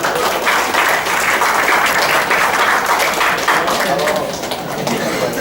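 An audience at an IT conference gives dense, sustained applause for the speaker Pak Bernhard. The clapping fills the room throughout with a crowd murmur underneath.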